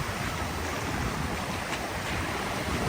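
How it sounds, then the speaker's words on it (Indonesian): Strong ocean waves roll and wash in steadily at Taipa beach, a dense, continuous surf roar close by, broad and unbroken for the whole stretch with wind noise mixed in and no voices. "Ombaknya di sini agak kencang ya guys"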